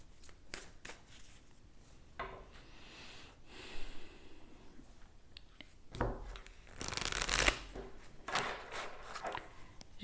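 A deck of tarot cards is shuffled close up, giving bursts of riffling and soft slaps mixed with nearby breathing and rustles, fairly quiet overall and with no speech.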